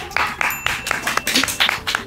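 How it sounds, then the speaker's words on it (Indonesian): Audience applause on a Korean celebrity guessing game show, a loose patter of sharp claps at a steady rhythm, close and fairly loud. "Tepuk tangan penonton, tepuk tangan."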